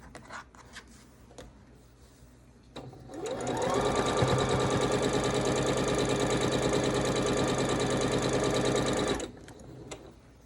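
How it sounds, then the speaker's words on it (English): A sewing machine stitches a quilt sampler block, starting after a few soft handling sounds and then running steadily and close for about six seconds before stopping abruptly; no one speaks. "I think I just sewed that one wrong"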